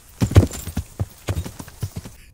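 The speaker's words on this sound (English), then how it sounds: "Horse attack!" Horse hooves clip-clop in the medieval video game Kingdom Come Deliverance, a quick, uneven run of close, punchy hoofbeats lasting a couple of seconds, with no voices over them.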